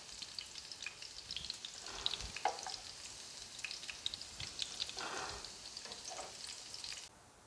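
Chicken meatballs frying in oil, a soft, busy sizzle with bursts of spattering and crackle that swell and fade before cutting off near the end, with no talk.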